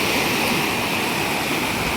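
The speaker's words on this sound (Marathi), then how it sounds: "इथे कडेला लाटा पडतात तसं इथे जोर जोरात असं कडेला पण पाणी येते" Sea waves breaking along the shore at Achara beach make a loud, continuous roar of surf and rushing water, with no voices.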